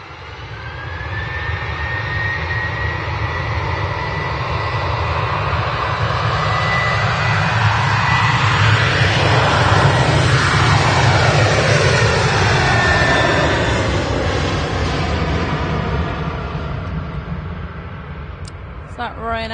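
A Ryanair jet airliner at Manchester Airport roars steadily and loudly close by for the whole stretch, swelling to a peak midway with a sweeping pass-by character, while someone talks over it.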